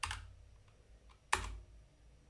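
A few sharp clicks on a computer keyboard, sparse and faint, with one louder key press near the middle and quiet gaps between strokes.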